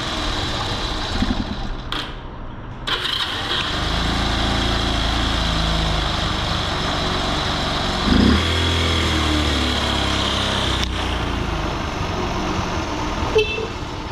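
1980 Honda C70 Passport small motorcycle engine idling, a steady low putter close by with a brief blip partway through, a few clicks and handling noises, no talk.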